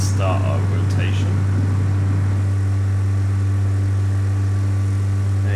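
Simulated aircraft engine in Microsoft Flight Simulator X during takeoff rotation, a steady loud low drone with a constant hum, under a voice early on.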